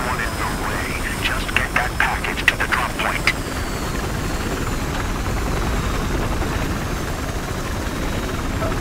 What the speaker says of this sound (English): That's a transport chopper